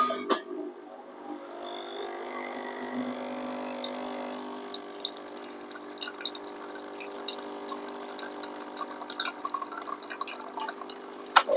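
A Barsetto BAE 02 espresso machine group head flushes water after descaling: a steady stream of running, splashing water with scattered drips and light glassy ticks, continuous and close for the whole stretch.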